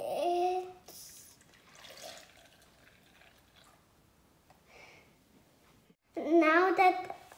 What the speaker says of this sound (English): Next, you pour the milk.